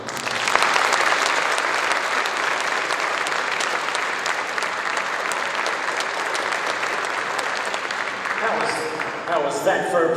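A large audience at a TBEX conference presentation in Ostrava claps steadily for several seconds, dense and sustained, then fades as a voice begins speaking near the end.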